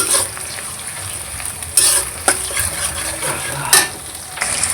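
Onions fry in a pan for a chicken leg and liver dish, browning to a light red, with a steady hiss of sizzling oil broken by a few sharp clinks of a stirring utensil against the pan, no talking.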